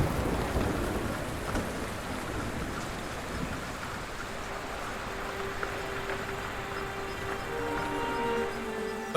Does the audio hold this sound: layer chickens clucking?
no